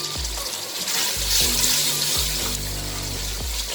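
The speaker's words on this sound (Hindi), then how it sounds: "अब इसमें डालेंगे थोड़ा सा" Water splashes into a pan of frying masala with salt, turmeric and ground coriander for an aloo baingan sabzi. A steady hissing pour runs throughout, close and fairly loud over background music.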